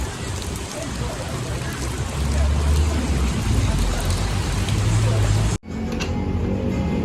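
Steady, heavy rain pours down in a dense hiss that fills the scene, cutting out abruptly near the end before a quieter patter resumes.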